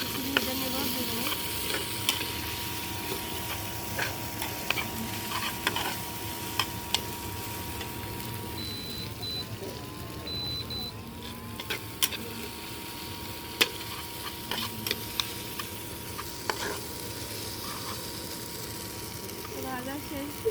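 Spice paste sizzles steadily in a pan for a Bengali rui fish and bottle gourd curry, with a spatula scraping and stirring in frequent short strokes over the continuous frying hiss.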